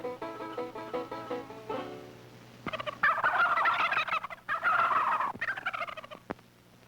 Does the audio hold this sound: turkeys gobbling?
yes